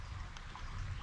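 Creek water running steadily outdoors, a continuous low rushing and gurgling flow with no voices over it.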